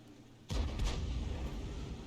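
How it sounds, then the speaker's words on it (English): A Skorpion tank destroyer fires in World of Tanks: a sudden loud booming shot with a heavy low-end blast, followed by a rumbling decay and a second crack shortly after. "the Skorpion is still firing at the enemy"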